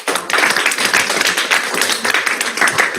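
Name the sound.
round of applause at a board of education meeting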